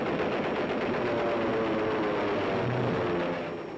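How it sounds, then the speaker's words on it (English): Sustained rapid cannon fire from fighter planes roars continuously with engine drone beneath, loud and dense throughout, fading slightly at the end. "Fighter planes sweep in with cannon blazing"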